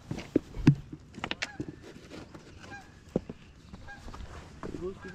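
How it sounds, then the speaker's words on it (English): Geese honk in scattered calls at a distance, several birds answering one another over a quiet outdoor background. "Geese."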